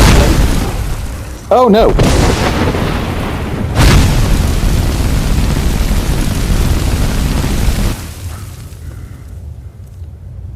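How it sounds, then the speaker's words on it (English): In Skyrim, a flame spell is cast and roars loud and steady for several seconds, punctuated by booming bursts, while a voice briefly cries out over it. "Let me get my flame magic ready, because they are weak to fire magic."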